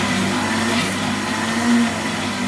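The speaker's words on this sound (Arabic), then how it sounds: "سامعين انتوا صوت الخلاط اتغير ازاي بعد ما كان سريع؟" An electric blender whirs steadily and fairly loudly as it mixes eggless mayonnaise that is thickening, the motor tone holding a low hum with a slight strain near the end and no talking.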